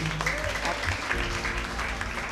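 A church congregation applauds loudly during testimony time, a dense, steady clatter of many hands close by with a voice briefly audible over the start.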